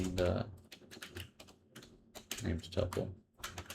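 Typing on a computer keyboard during Python coding, a quick irregular patter of key clicks mixed with a man's quiet muttered speech.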